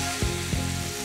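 A horse gram and rice mixture fries in a pan under a steady broadband sizzle, with a few soft, brief stirring thumps spaced evenly across a short stretch.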